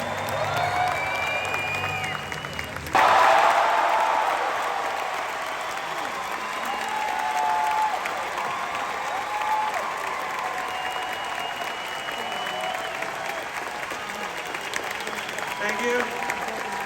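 An audience at Star Wars Celebration Anaheim bursts into loud applause and cheering for the Bad Batch panel, with sustained clapping and crowd roar, and a voice speaking over a PA at the start.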